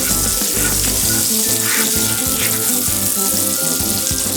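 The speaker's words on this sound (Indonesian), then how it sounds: "mulai melumerkan mentega ke dalam wajan penggorengan" Butter melts and sizzles in a frying pan as a nasi goreng is started, giving a steady, close frying hiss with faint clinks and stirring sounds underneath.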